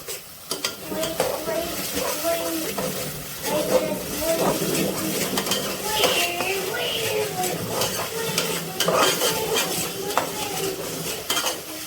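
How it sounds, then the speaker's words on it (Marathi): Butter chicken masala being stirred and fried in oil in a pan, with steady scraping and clattering of a spoon against metal over a continuous sizzle, close and fairly loud throughout. "हा मसाला चांगला भाजून घेऊया त्याला जरा चांगलं तेल सुटू द्या"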